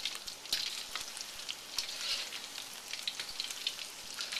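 Pieces of pork deep-fry in oil at 350 degrees, giving a steady crackling hiss like light rain, with frequent sharp pops over a constant close bubbling.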